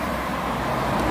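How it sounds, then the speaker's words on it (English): Cars passing along a busy road, heard as a dense, continuous roar of traffic close by, loud and steady, with no talking. "The cars are flying past and near a busy road."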